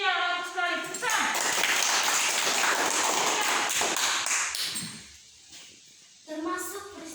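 Classroom of children clapping together in a burst of applause lasting several seconds, fading before voices resume.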